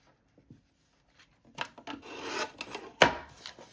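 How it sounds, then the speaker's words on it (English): Rough rasping cuts from a small paper trimmer, a few scraping strokes building after a quiet start, with one sharp louder snap near the end. "This trimmer is not the best and I keep using it for some reason."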